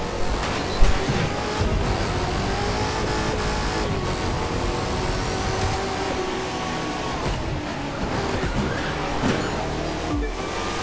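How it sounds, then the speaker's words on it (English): Race car engine in the video game The Crew 2 roars steadily and loudly throughout, with revving surges, tire squeal and skidding over continuous road noise. "that sounds like a true race car"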